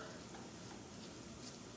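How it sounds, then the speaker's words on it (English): Steady, dense crackling hiss of meat sizzling in a hot pan, continuous and fairly faint throughout with no talking. "You hear that sizzle?"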